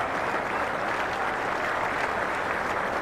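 A cricket test-match crowd at Headingley applauding a departing batsman, Moin Khan, with steady, dense clapping that holds at an even level throughout, broad and moderately distant.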